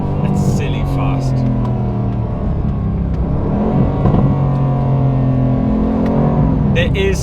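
Aston Martin DB12 S with optional titanium exhaust, heard from inside the cabin as a steady loud engine drone with rising revs and a crack near the end, under people talking.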